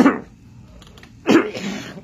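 Two short, harsh coughs, one at the start and a louder one a little over a second later, with quiet pauses around them.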